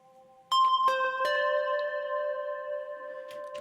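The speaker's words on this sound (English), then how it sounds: "The Digitone reverb sounds really good. And it goes to infinite." Elektron Digitone synth notes strike in three bright stacked chimes, each ringing on with an infinite reverb tail that sustains evenly without decaying, closing with a faint extra flutter.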